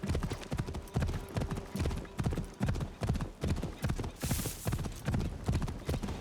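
Horse hooves clopping in a steady riding rhythm in Assassin's Creed Shadows, loud and close, with regular galloping beats across the whole stretch under faint game ambience.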